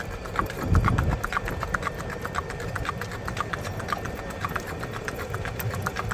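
A horse's hooves clip-clop in a quick, even four-beat rack gait, the steady rhythmic strikes close and clear throughout, with a brief low rumble near the start.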